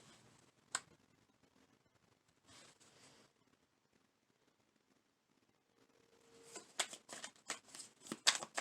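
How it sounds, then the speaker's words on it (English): Tarot cards are pulled and shuffled: a sharp snap, a brief soft riffle, then a quiet stretch before a rapid burst of close card flicks and slaps at the end. "pull a couple more cards"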